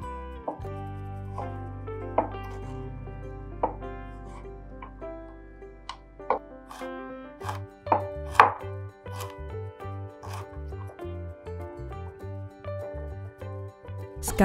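Vegetables being diced on a cutting board for chili-padi fried rice, a steady series of crisp knife chops alone and close, with background music running throughout.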